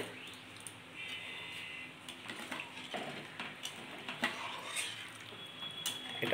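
Hilsa fish in mustard sauce being stirred in a pan, with soft scraping and scattered clinks of a utensil against metal, quiet and irregular, with a faint voice at times.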